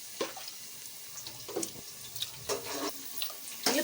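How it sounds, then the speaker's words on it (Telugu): Raw chicken is rinsed under running tap water, with short splashy bursts of flow and handling noises in a few quick intermittent spurts, close and fairly quiet, without any talking. "ఈ విధంగా నీళ్ళు పోసి శుభ్రంగా కడుక్కోవాలి."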